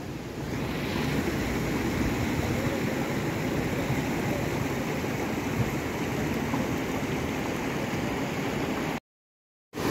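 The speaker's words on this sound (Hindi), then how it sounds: "इतने फ्लो के साथ यहाँ पर पानी आ रहा है" Loud, steady rush of fast-flowing water over a causeway in Jim Corbett Park, a continuous broadband roar without a break, cutting off abruptly near the end.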